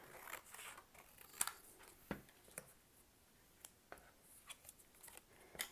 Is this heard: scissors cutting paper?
yes